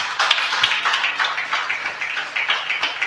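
Church congregation clapping cheerfully for Jesus, a dense steady patter of many hands going on continuously at close range.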